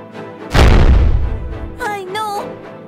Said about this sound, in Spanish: ¡Qué disparo tan fuerte!